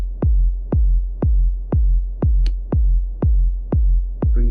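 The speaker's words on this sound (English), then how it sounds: "I'm going to add some reverb to my kick drum." Electronic kick drum with reverb added in Ableton Live, a steady four-on-the-floor pulse of nine deep booming hits, each with a short tail, loud and close with nothing else around it.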